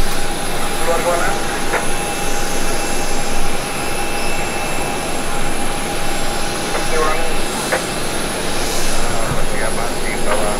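A parked aircraft's jet engine runs with a steady, loud roar and a high whine across the whole stretch, while a crowd chatters and calls out underneath.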